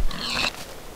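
Pig grunt from a video game, a single short oink-like squeal near the start of a quiet second, alone with no talk.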